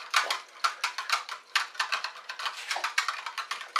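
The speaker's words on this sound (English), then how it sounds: "I'm just going to keep stirring this up" Homemade fake blood mixture being stirred in a container gives off a quick series of light clicking and tapping strokes, close and fairly quiet, in an uneven rhythm.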